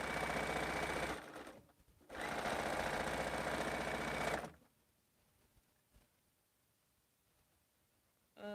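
A sewing machine stitches quilt blocks in two loud, steady whirring bursts, each lasting a couple of seconds with a brief pause between, and then falls to near silence with faint small handling noises.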